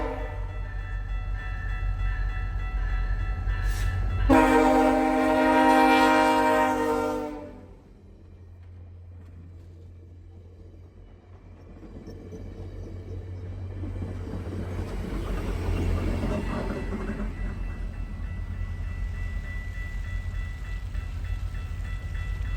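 The P12 train, with unit 6455 at the rear, passes slowly under a 25 mph speed restriction. A loud, sustained horn blast rises over a low rumble, which then fades before swelling again with wheel and car noise.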